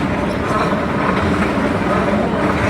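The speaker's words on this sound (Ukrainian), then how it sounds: "О, а це вже звичайна електричка. Йшла от червона." An ordinary red electric commuter train runs past in Cologne, Germany, a steady loud rumble and rolling clatter that fills the whole stretch without letup.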